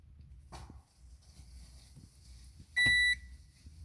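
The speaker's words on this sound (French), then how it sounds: "là, si vous entendez, ça bip." A multimeter gives one short, sharp electronic beep during a continuity test on a wire in a Citroën C4 Picasso 1.6 HDi. The tone is clear and steady against quiet background handling noise.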